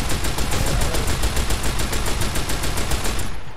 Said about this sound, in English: This gun is serious fucking business. It's only a 10mm too.